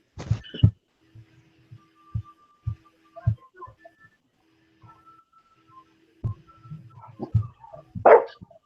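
A puppy yips and barks a few scattered times, mostly short and soft, with a louder cluster toward the end, heard close in an otherwise quiet room with a faint steady hum.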